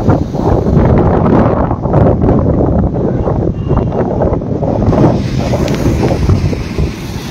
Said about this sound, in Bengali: তবে শুরু হচ্ছে ঢেউ, তত আরো হতে থাকবে ঢেউ।